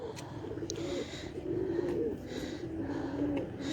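A large Madina teddy pigeon coos in low, rolling, repeated phrases close by, soft and steady against quiet background noise.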